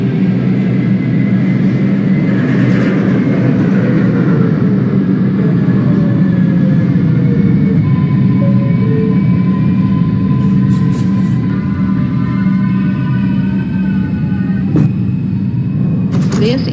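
A simulated R142A subway train in the OpenBVE train simulator game, a 4 Express train, rumbles steadily and loudly, with rising and falling mechanical whines, a continuous roar that carries on throughout.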